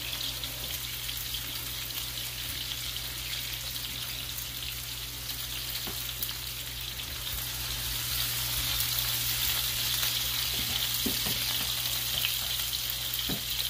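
Onions frying in a pan, a steady even sizzle throughout, fairly quiet with a low hum underneath and a couple of faint clicks.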